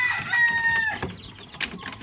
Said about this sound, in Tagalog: manok na ating pinapalahian